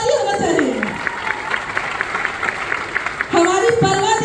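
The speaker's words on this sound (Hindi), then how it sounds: "एक जोरदार ताली होना चाहिए।" Loud applause from a crowd at a women's empowerment gathering, broad clapping noise running throughout with a voice speaking over it and music or tones entering near the end.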